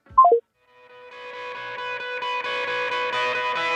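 A podcast segment jingle for a recurring feature opens with three quick descending electronic beeps, then a sustained synth chord swells and builds steadily, loud and alone with no talking.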